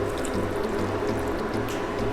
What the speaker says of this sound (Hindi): और थोड़ा सा पानी डालेंगे